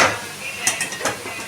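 Cluster beans drop into a hot pan and get stirred with a utensil, giving a brief sizzle and a few light scraping clacks against the metal.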